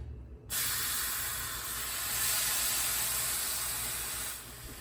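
Sauerkraut and corned beef sizzling in a hot pan, a strong steady hiss that starts abruptly, holds loud and even for several seconds, then eases slightly at the end.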